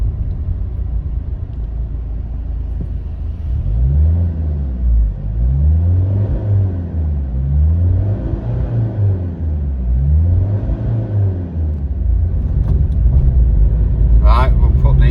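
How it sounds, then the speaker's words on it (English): A car engine fitted with a standard air filter revs in neutral with the throttle floored, a loud, close rumbling drone rising and falling in repeated swells, while someone talks over it. "Foot to the floor. See what it sounds like in"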